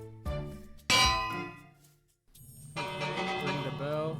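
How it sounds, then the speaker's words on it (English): A village bell in hardcore Minecraft is struck twice, each a bright metallic clang with a ringing decay, followed by a pause and then a busier stretch of other game sounds. "Ring the bell."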